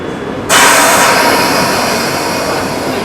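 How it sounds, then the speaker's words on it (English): A London Underground train departs with a sudden loud surge of rumbling motor and rail noise that holds steady and close, filling the platform with a broad roar and no talk over it. "This train is now departing."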